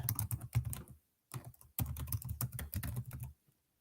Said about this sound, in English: Let me just type this again.